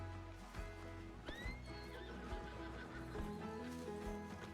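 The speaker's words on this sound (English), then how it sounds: "Well, you can take the horse." A horse in a video game neighs with a rising whinny while hooves clip-clop in a steady rhythm, clear and close, alone without talk.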